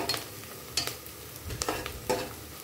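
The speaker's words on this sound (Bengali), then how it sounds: "পেঁয়াজটা আমি আরেকটু ভেজে নিব" Chopped onions frying in a pan, a soft continuous sizzle broken by a few quick stirring scrapes, close and alone.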